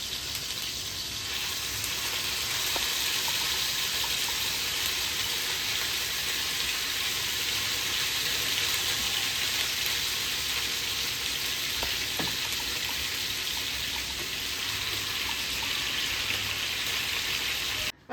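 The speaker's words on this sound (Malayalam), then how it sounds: "അപ്പോൾ നമുക്ക് ഇനി നമ്മുടെ ചിക്കൻ പീസ് ഓരോന്നായിട്ടെടുത്ത് വറുത്തെടുക്കണം" Chicken pieces sizzle steadily in hot oil in a frying pan, a continuous dense crackle with scattered pops held at an even level throughout, no talking.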